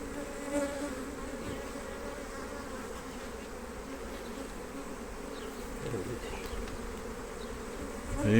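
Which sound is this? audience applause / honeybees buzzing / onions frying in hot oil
honeybees buzzing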